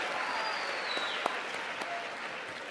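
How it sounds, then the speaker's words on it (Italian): Applause from a gathering of high school students during an interview event in Rome: a soft, steady wash of many hands clapping from a distance, with a few louder individual claps, sustained for nearly three seconds. "Un applauso a Benedetto Croce"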